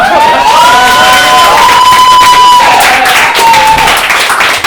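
Audience at an improv comedy show claps and cheers loudly, a dense steady roar of applause with whoops and shouts sustained throughout.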